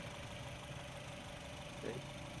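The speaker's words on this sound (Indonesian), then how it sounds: "Suara irama mesinnya juga masih standar, masih garing ya teman-teman ya." A 2021 Honda City Hatchback RS with a CVT idles steadily, giving a faint, even, continuous engine hum with no revving throughout.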